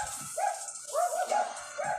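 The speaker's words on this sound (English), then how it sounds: "dogs start barking up a storm" Several dogs bark in short yapping bursts that cluster and overlap, loud and close with brief gaps, with no talk over them.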